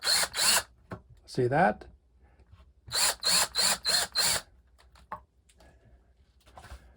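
A power drill countersinking a piece of wood for a bed frame, running in a burst of short whirring pulses at close range, with brief talk in between.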